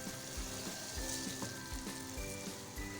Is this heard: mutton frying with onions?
yes